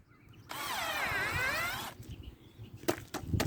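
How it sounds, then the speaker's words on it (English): A power drill bores a hole in rich garden soil for planting Brussels sprouts, giving a whining, wavering motor tone for over a second, followed by a few soft scraping thuds. "Just drill a big enough hole to put my Brussels sprouts in"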